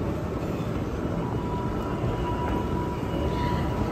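An underground metro train rumbles steadily, a dense low roar with a faint high whine that fills the whole moment without letting up, and no voices stand out.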